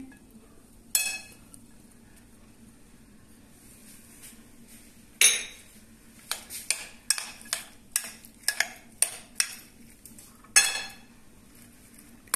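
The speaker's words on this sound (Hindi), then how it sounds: "ये सारी चीजों को अच्छी तरह मेयोनीज में मिक्स कर लेंगे" Spoon scrapes and clinks against a bowl while carrots, cabbage, peas, sweet corn and pomegranate are mixed with mayonnaise for a Russian salad, arriving as a series of short, close knocks in uneven bursts, with no talking.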